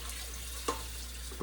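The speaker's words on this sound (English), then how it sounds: "I can get all that out of there too by rinsing some water in there." Tap water runs steadily into a sink to rinse a Cuisinart food processor bowl of shredded vegetable bits, a constant close hiss with a couple of faint knocks, no speech.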